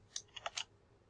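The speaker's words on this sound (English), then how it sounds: "I just press the keyboard, the B key on the keyboard, and I got another cell." A few quick keystrokes on a computer keyboard, soft and close, while someone works in a Jupyter notebook, tapping in a short burst of four clicks and then going quiet.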